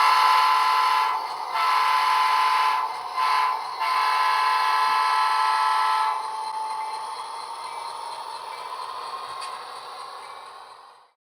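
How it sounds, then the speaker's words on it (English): Model train locomotive on a DCC-EX controlled layout sounding a sustained multi-tone horn in several blasts, then a steady hum as it rolls away and fades out, no voices. "Our locomotive is ready, so sound the horn, release the brakes,"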